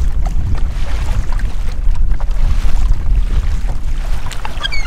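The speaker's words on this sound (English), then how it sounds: "Kind of forgot how pleasant paddling can be." Paddling a canoe or kayak across a lake into a headwind: gusty wind roars over the microphone while water sloshes and paddle strokes splash close by.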